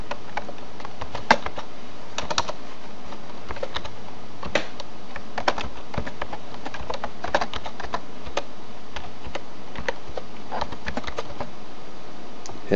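Typing on a computer keyboard while a name is entered during Windows XP setup, with steady close key clicks in short irregular bursts over a faint constant hiss and no voices.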